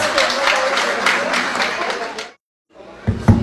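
Audience applause fills the opening seconds, a dense, loud burst of clapping that cuts off abruptly, followed by a brief silence and then faint room sounds with a few low thumps.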